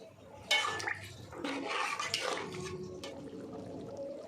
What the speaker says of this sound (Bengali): এবার পরিমাণ মতো গরম জল দিয়ে দেব।